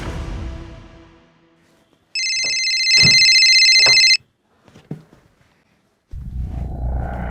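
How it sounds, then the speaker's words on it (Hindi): A telephone rings in a single buzzing electronic burst lasting about two seconds, surrounded by quieter background noise and rumble. "फोन उठाओ।"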